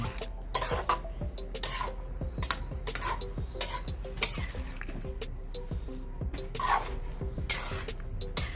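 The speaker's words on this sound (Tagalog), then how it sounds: "haluin lang natin" A spoon scrapes and clinks against a pot as spare ribs caldereta is stirred, with irregular close knocks and scrapes over a soft simmering sizzle.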